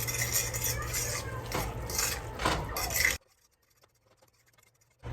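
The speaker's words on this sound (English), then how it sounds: "Just stir it up." Shepherd's pie filling with gravy stirred in a pan, a steady, close scraping and scuffing of the spoon for about three seconds before it stops suddenly and near silence follows.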